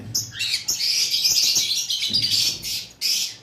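A pied sun conure, a yellow-bodied parrot, gives repeated shrill, piercing calls close by in quick bursts, with no talking.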